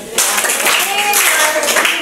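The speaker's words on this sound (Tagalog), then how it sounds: "bigyan ng magaling na palakpak si Kuya Morante." A group in a classroom demonstration gives a round of applause, dense clapping starting sharply after a brief pause and continuing steadily, fairly loud and close, mixed with a little voice.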